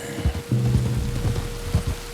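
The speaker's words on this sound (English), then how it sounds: "You were right about the damn rain." Rain falls steadily in the video game Red Dead Redemption 2, a close, continuous patter on surfaces with a low rumble and a faint steady hum underneath.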